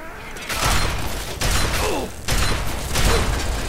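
Automated turrets fire in bursts inside a robot-guarded building in Fallout 3, three loud rattling volleys with mechanical clanks between them, close and harsh with no talking over them.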